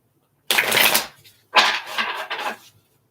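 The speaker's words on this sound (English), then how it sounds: "I'm going to shuffle these ones one more time." Two quick bursts of tarot cards being shuffled close by, crisp riffling flutters about a second each, separated by a short pause.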